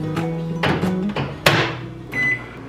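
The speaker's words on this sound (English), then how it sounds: "we're gonna heat that up right now and toss her in the microwave" A microwave oven hums steadily up close, punctuated by a few knocks and clunks of handling, ending in a brief higher tone.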